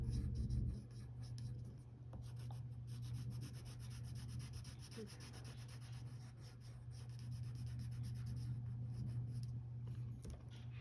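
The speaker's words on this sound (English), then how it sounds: "taking the side of your pencil, you fill in everything else black." Soft, steady scratching of a pencil's side shading broad areas of a drawing on paper, a continuous quiet rub with small variations, no voices.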